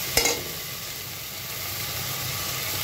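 Ginger paste frying with browned onions in a pan, a steady, close sizzle and hiss after a brief clink at the start. No one speaks.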